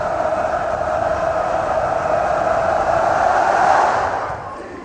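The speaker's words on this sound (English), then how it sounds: "Listen to that crowd." A packed volleyball arena crowd at a USC at Penn State match roars steadily and loudly for the full stretch, swelling toward the end before easing slightly, with no clear speech over it.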